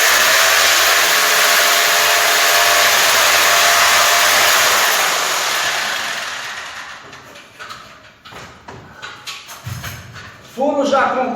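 A power drill bores a hole high up in a two-story house for installing ambient sound. It runs loud and steady for about six seconds, then fades into clattering handling noises and brief voices.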